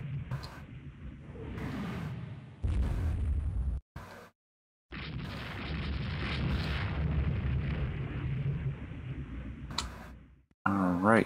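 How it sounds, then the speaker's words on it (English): In the naval strategy game Rule the Waves 2, the ship Leander blows up in a series of loud, rumbling explosion bursts broken by abrupt cuts and ticking clicks, with talking throughout. "Leander explodes."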